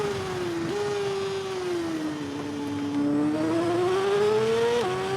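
A racing motorcycle engine in TT Isle of Man 2 holds a high, steady whine that dips and climbs through gear shifts, loud and close with no speech.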